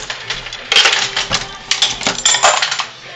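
Sharp metallic clanks and rattles come in quick bursts, a Dillon 650 reloading press handle working with clinking parts, loud and close.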